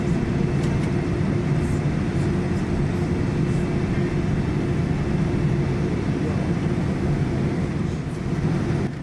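Inside the cabin of a Westjet Boeing 787-9 taxiing after landing, a steady, loud, broadband rumble and roar holds constant throughout with no clear breaks.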